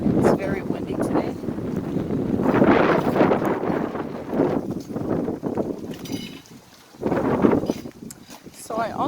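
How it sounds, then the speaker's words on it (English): Strong gusts buffet the microphone in loud, rolling surges with brief lulls between them. "It's very windy today."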